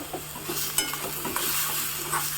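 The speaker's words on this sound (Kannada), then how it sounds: "ನಂತರ ಕರಿಬೇವಿನ ಸೊಪ್ಪನ್ನು ಹಾಕಿದ್ದೀನಿ" Curry leaves crackle and sizzle in hot oil for a Mysore-style chutney tempering, a steady broadband hiss with a few sharp pops and light stirring scrapes, close and fairly loud, no voices.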